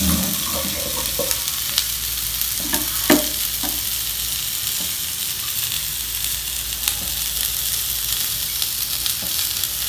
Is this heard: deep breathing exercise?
no